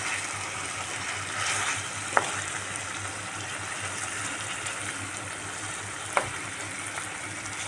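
Chicken cooks in its own juices in a pan, giving a steady, close sizzle and bubbling that runs unbroken throughout, with two brief faint clicks along the way and no talking.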